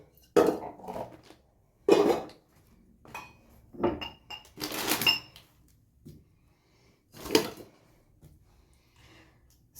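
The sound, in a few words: washing dishes, pots and pans clattering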